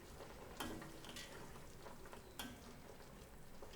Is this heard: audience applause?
no